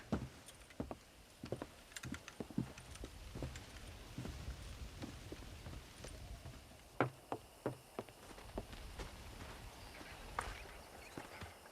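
Horse hooves clip-clop at a steady walking pace in a Western ranch video game, the dull thuds mixed with scattered knocks and light ambient noise, with no talk over them.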